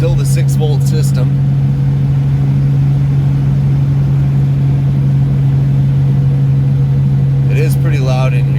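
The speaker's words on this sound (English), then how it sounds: "transmission in this thing is pretty loud. Transmission in the rear end." Inside an old Pontiac on a 6-volt system, a steady, loud low drone from the transmission and rear end fills the cabin with the windows up, and brief bursts of talk come at the start and end.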